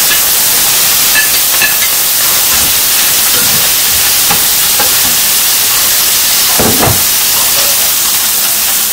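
Chicken pieces and seasonings stir-frying in a hot wok for kung pao chicken, a steady broad hiss and sizzle running throughout with a few sharper spatters and clinks near the end.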